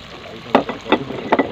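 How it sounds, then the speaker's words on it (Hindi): Chicken with ginger garlic paste being fried in a handi for biryani, with a quiet background sizzle broken by several scraping stirs. "और अच्छी तरह से इसको भूनेंगे।"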